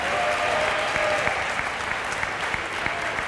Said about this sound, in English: how about a round of applause one more time for our 13 seniors?